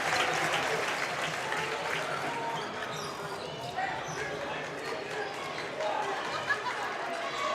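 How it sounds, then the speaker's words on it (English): A home crowd cheers and roars through a high school boys basketball game, Bishop Watterson at Big Walnut, with steady close crowd noise, clapping and sneaker and ball sounds under a commentator's voice. "you can hear the home crowd getting into this one"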